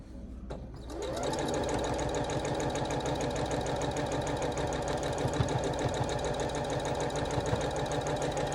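A sewing machine stitches 8-inch quilt blocks together for a barn star sampler quilt. It starts with a short pause, then runs at a steady, even, rapid clatter up close for the rest of the clip.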